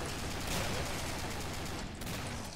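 Dense, continuous gunfire from Killing Floor co-op play, a steady barrage of overlapping shots filling the clip with only a brief dip near the end and no clear talk.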